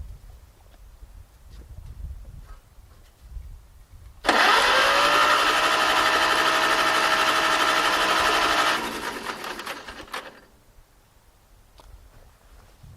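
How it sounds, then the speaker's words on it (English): A Farmall tractor starter whines loudly as it cranks the engine over in one sustained run of about four seconds, then winds down and fades out, with quiet shuffling before and after. "So let's go ahead and see if it'll crank over."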